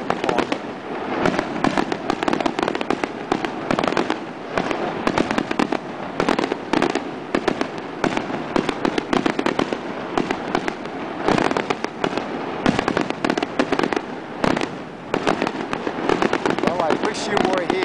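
Fireworks burst continuously at night over San Giovanni Rotondo, a dense barrage of loud crackling and booming explosions with no pauses, close and sustained throughout.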